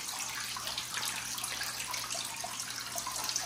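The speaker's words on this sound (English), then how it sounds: "They got oxygen, a filter, water flow." Water flowing from a filter in an indoor bathtub turtle pond, a steady close splashing trickle with a faint low electrical hum beneath it throughout.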